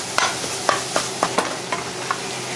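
Ground pork browning in a pan for Vietnamese steamed rice roll filling: a close, steady sizzle broken by about eight sharp scrapes and taps of a utensil stirring the meat, with no talking.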